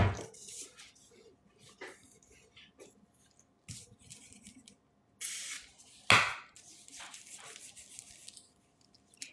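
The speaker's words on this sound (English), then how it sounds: "I'm going to put a little bit of that spray lotion on my arm" Spray lotion is misted onto an arm in a few short hissing bursts, close by, between quiet rustling and handling noises.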